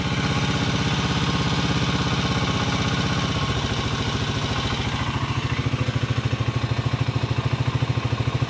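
A Skygo King 150cc motorcycle engine idles close by after carburetor tuning, a steady loud single-cylinder putter that drops in pitch midway and settles into a slower, even chug.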